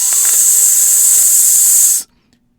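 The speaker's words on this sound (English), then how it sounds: "and there was proud Gordon, going slower and slower, in a cloud of steam." Loud, steady hiss of steam venting from Gordon the tank engine, held evenly for about two seconds and then cutting off sharply into silence.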